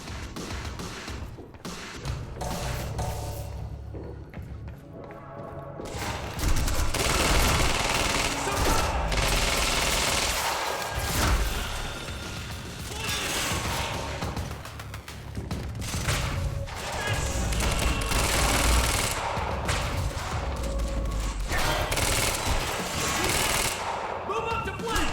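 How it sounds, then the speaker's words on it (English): Dense, loud volleys of bullets exploding at once in the video game Quantum Break, a continuous barrage of cracks and thuds with heavy low rumble that runs for the whole stretch, swelling after the opening seconds. "And then all the bullets explode at once."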